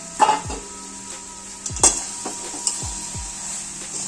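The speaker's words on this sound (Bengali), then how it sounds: "এবার ভালো করে নেড়ে নেব।" A spoon stirs fried soybeans in a seasoned pan, giving a few sharp scrapes and knocks against the metal over a constant soft sizzle.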